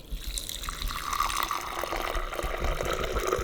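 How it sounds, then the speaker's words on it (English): Thai iced tea pours steadily into a pitcher nearby, a continuous splashing trickle that rises slightly in pitch as it fills. "now we're gonna slowly pour the tea"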